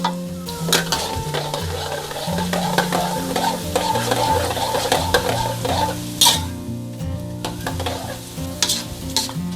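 Enoki mushrooms deep fry in hot oil for a second round, giving a loud, dense bubbling sizzle broken by frequent scraping and clinking from a utensil moving them in the pot, with no talking.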